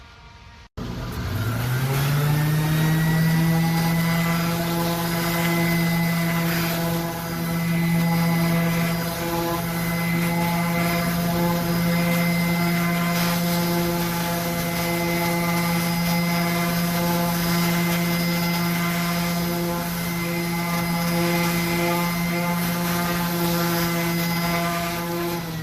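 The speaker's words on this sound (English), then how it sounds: "I'm going to start out by taking it out to the palm sander." A palm sander starts up and runs continuously on a wood floor surface, giving a loud, steady motor whine and buzz close by for about twenty-five seconds. There is no talking.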